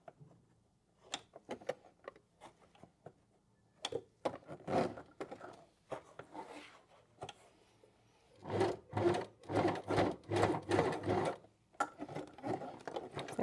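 Leather being hand stitched with needle and thread, a series of soft close rubbing and tugging pulls, sparse at first and then a fast rhythmic run of firm draws through the hide, no talking.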